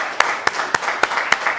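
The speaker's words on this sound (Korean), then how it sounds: "하나님께 영광의 박수를 한번." A church congregation at a New Year's Eve worship service claps in a short burst of about five separate, evenly spaced claps, sounding sparse and moderately close.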